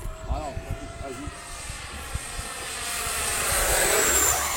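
A small propeller airplane flying near a new château, its engine droning steadily and rising louder toward the end, with people talking in French over it early on.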